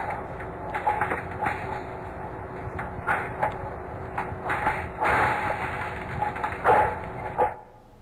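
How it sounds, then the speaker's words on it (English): Polar sea ice cracking, recorded underwater with a hydrophone: a dense field of sharp pops and snaps with irregular bursts over a steady low hum, loud throughout, then cutting off near the end. "you would hear ice cracking underwater"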